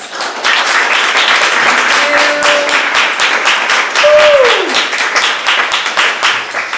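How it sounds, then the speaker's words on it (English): An audience at a Blue Hour literary event applauds itself, steady dense clapping filling the room throughout, with a couple of brief whoops or vocal tones rising over it. "Applaud for yourselves for being here to experience this."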